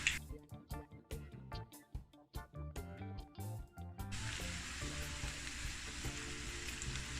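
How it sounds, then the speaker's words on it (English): Chicken wings fry in oil for extra crispy wings. After a few seconds of tonal, rhythmic sounds, a dense, steady sizzle starts and continues close and clear to the end. "Alright guys, we're gonna let this fry up"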